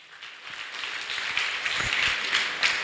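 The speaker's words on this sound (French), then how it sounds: "Donnons une acclamation au Seigneur." Congregation applause during a church service, a moderate, steady patter of clapping that swells slightly over a few seconds with no talk.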